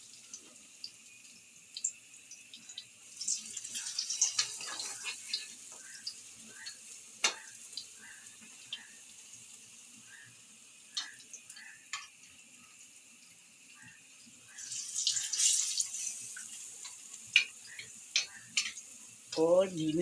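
Dahi bara batter frying in oil in a kadhai gives a soft, steady sizzle with scattered small pops and clicks, fairly quiet, while a voice talks intermittently.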